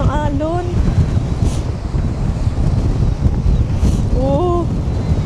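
Strong ocean waves roll onto Brighton Beach in Melbourne, a steady broadband surf roar mixed with gusting wind noise on the microphone, continuous and fairly loud, with a voice speaking over it.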